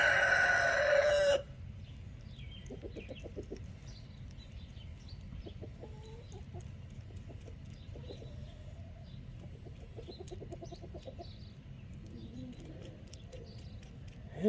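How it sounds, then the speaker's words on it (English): Chickens crow and cluck faintly in the background of a yard during trailer wheel bearing work, a few short calls scattered through a steady low hum after a brief loud burst at the start. "make sure you have your chickens right behind you, so they're always crowing"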